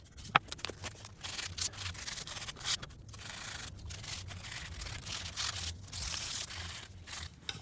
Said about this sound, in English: sanded that a little bit more for the 3rd time